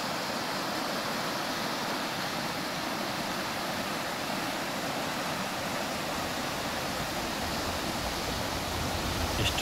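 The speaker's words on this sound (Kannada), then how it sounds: "ನೀರು ಎಷ್ಟು ಜೋರಾಗಿ ಹೋಗ್ತಾ ಇದೆ" A rain-swollen river rushes with force after heavy rain, making a loud, steady, unbroken roar of churning water that holds close and constant throughout, with no voices.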